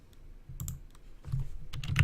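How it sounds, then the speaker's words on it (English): Keys clatter on a computer keyboard in brief bursts of quick clicks, close and fairly quiet, during a chess stream while a chess move is being typed into a chat window. "I'm typing it in the chat over here."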